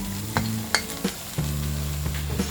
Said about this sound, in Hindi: सिर्फ इसे आधे मिनट तक इसमें फ्राई करेंगे।